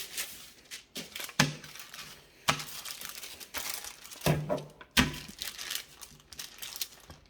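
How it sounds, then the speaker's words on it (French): Baking paper crinkles and rustles in several close, sharp bursts while tart dough for a tarte au daim is pressed and rolled out flat between two sheets; no talking. "je la recouvre d'un autre papier de cuisson et je viens essayer de l'étaler"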